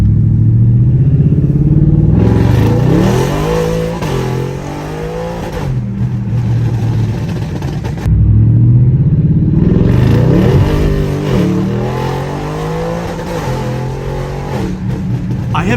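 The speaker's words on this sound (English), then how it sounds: "I have never felt this car spin up all 4 wheels and yank me back so hard in my life." An 800-horsepower Audi RS7 with a twin-turbo V8 accelerates hard, its engine roaring loud and close as revs climb through two full pulls, each cut by a sharp shift or lift before surging again.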